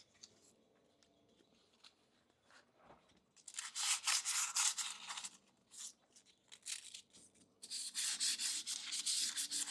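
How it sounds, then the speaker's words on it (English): 400 grit wet or dry sandpaper scrubbing the inside of a lightly rusted brake drum, loud rasping strokes in two long bursts with brief pauses and scattered scrapes between, close up. "number 400 wet or dry sandpaper. And I'm just going to use it to clean the inside of this drum."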